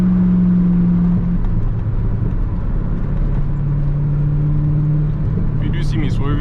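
A manual Corvette C5 driven hard on country backroads, its engine droning loudly and steadily with pitch shifts as it changes gear, while someone talks over it.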